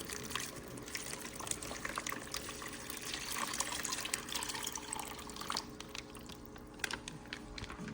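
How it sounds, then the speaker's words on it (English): Water poured by hand into a small saltwater aquarium, a continuous faint splashing and trickling with small bubbling taps throughout. "I didn't have anything to drip acclimate, so I just added water myself."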